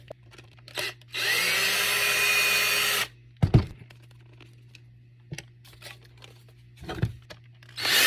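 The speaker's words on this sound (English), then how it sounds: "you had to remove this screw, and that screw" A power screwdriver whirs for about two seconds while screws are removed from a Dyson handheld vacuum, followed by sharp clicks, knocks and plastic handling noises up close.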